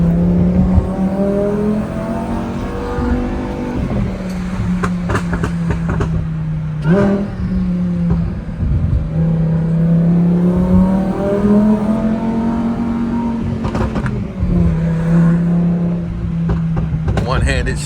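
A Lamborghini Huracan engine droning and revving while driving, a loud continuous tone that rises and falls through gear shifts, heard from inside the car.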